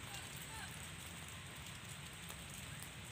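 Steady rain falling outdoors, a dense, even hiss of drops on surfaces holding constant through the whole stretch with no talk over it.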